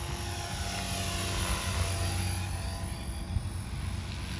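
A scale model helicopter flies low and close outdoors, its rotor giving a steady, loud whirring drone with a throbbing low pulse that holds throughout without a break.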